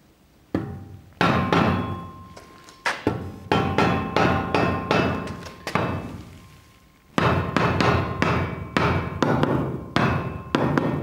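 A hammer pounds a concrete floor screed in a new building, with loud repeated heavy blows in bursts and irregular clusters and brief pauses between runs, close and ringing with debris clatter.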